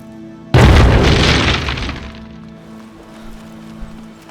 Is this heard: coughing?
no